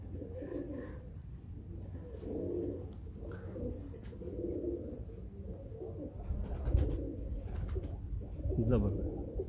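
Pigeons of a 72-number bloodline coo in soft repeated bursts close by, with occasional chirps and light background rustle, a low murmur of voices faintly underneath.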